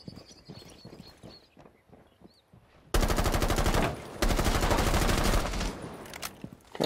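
Automatic gunfire in the tactical shooter Rainbow Six Siege: scattered sharp shots and clatter at first, then loud, dense continuous bursts of rapid fire with a short break in the middle.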